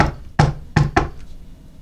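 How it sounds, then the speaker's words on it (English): Three sharp knocks sound on a door, close and loud, one followed by a quick pair, then quiet. "She knocked again."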